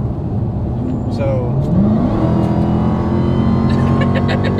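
A car accelerating hard on a city street, the engine note rising steadily under a loud cabin rumble, with people talking over it inside the car.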